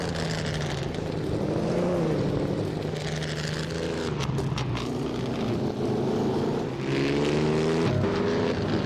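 Several race car engines in a video game race drone and rise in pitch together, a steady layered roar that swells near the end as a car accelerates.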